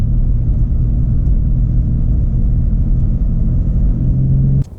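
A new BMW M3 engine roars loud and close in a steady low rumble while accelerating in a drag race, then cuts off abruptly near the end.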